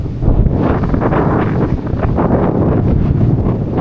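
Strong wind on a Fuerteventura beach in the Canary Islands roars and buffets the microphone in a constant heavy rumble, gusting throughout with no clear voices.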